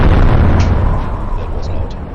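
A heavy 15cm tank gun fires in the World of Tanks video game, a loud, deep booming blast that decays into a rumbling tail.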